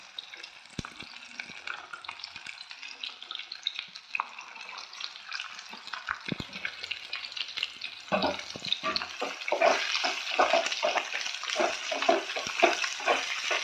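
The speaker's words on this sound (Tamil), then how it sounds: "இப்போ மீதி இருக்கிற வெஜிடபிள்ஸ் எல்லாமே சேர்த்து வதக்கிக்கலாம்." Vegetables including onion and capsicum sauté in a pan for egg fried rice, a soft steady sizzle with frequent scraping stirs that grow louder and more rhythmic toward the end.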